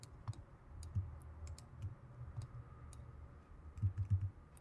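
Computer keyboard keys clicked while working in Blender, a scattered series of light taps and clicks over a low steady room hum, close and quiet with no one talking.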